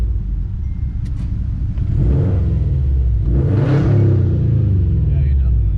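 A loud engine rumble from a Subaru WRX STI with an aftermarket exhaust. It swells as the car revs past during a fly-by, with a deep droning tone throughout.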